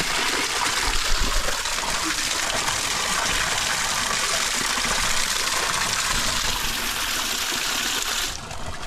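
Cold water from a village tap in the hills pours in a steady, hissing gush that runs unbroken for several seconds, close by, before cutting off sharply near the end.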